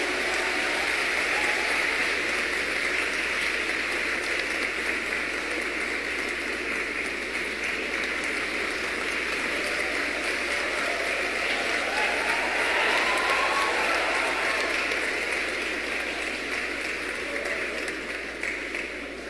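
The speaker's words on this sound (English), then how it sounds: "obredo, Doctor of Humanities, Honoris Causa, a round of applause" Sustained audience applause at a university honorary degree ceremony, a steady dense wash of clapping that holds evenly throughout, moderately loud and without voices.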